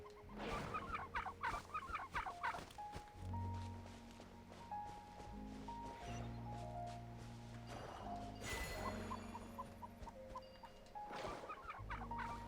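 Big chickens in the Genshin Impact video game cluck and squawk in short, uneven bursts over a soft game soundscape with faint footsteps.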